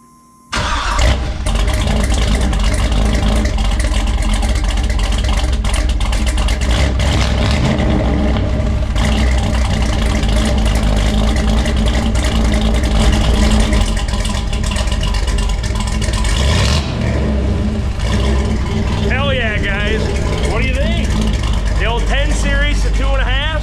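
An LS-swapped 1988-1999 GMT400 pickup truck with a DIY mandrel-bent exhaust cranks and fires up, then settles into a loud, deep, rumbling idle with revving throughout, close to the microphone.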